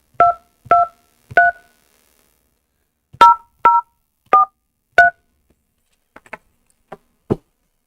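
Touch-tone phone keypad dialing: seven crisp dual-tone beeps in two quick bursts of three and four, loud and close, followed by a few faint clicks and taps.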